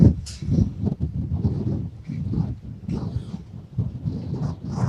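Gusty storm noise in Jalandhar, Punjab, roars continuously with low rumbling and wind-like rushing under light drizzle, a dense, loud outdoor wash without a clear break.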